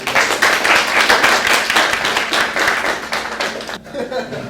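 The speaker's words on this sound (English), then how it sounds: "Let's give him a round of applause." Applause at a business speaking event honoring a CBRE senior vice president: dense, steady clapping from an audience across the whole stretch, fading slightly near the end, with some chuckles and voices mixed in.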